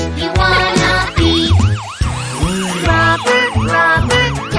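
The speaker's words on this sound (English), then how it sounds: "Sirens on, here we go." Emergency vehicle siren in a children's song about community helpers, a loud wailing up-and-down tone sweeping repeatedly over bright music and singing.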